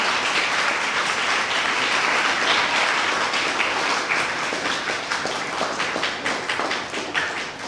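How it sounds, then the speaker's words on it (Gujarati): Audience at a children's book-talk session applauds its four young speakers: loud, dense, sustained clapping from a crowd, steady throughout and thinning slightly toward the end. "એના માટે એ લોકો માટે એક જોરથી પાછી તાળી."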